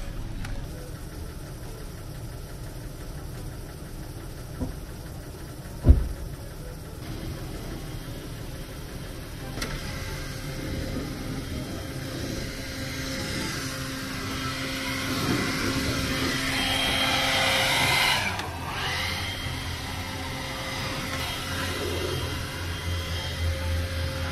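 A steady motor drone builds and swells into a louder, airy roar, continuous and fairly close, like a leaf blower running, with a sharp knock early on.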